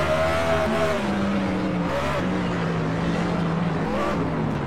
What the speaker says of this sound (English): You can hear that engine kind of crying out for help there as they enter the corkscrew.